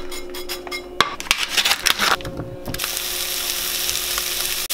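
Nearby clattering and scraping of a utensil in a pan gives way to a loud, steady sizzle of chicken frying in low-calorie spray, with no voices.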